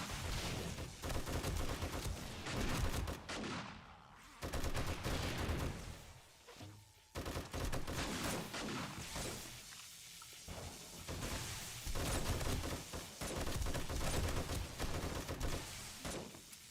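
Sustained gunfire in the survival video game 7 Days to Die, a dense, loud fusillade of shots filling the whole stretch with only brief dips, no voices heard.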